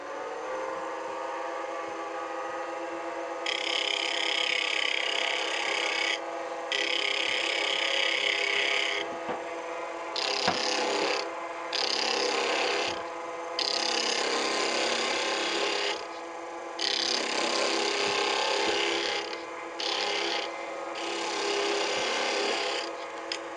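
A wood lathe spins a Purple Heart pen blank on bushings at around 3,500 to 4,000 RPM, a steady high whine with bursts of scraping as the tool cuts in and lifts off in repeated passes.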